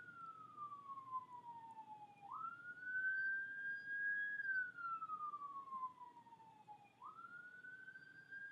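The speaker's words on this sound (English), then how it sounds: "Oh, it's the ambulance." A wailing emergency siren rises and falls in long slow sweeps, heard at a moderate distance against quiet background hum.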